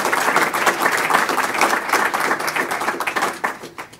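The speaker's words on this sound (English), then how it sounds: "a big round of applause for the 12 winners" An audience at the Securing Water for Food award ceremony during International Water Week 2015 applauds the winners, loud, close, dense clapping that swells and then thins out toward the end.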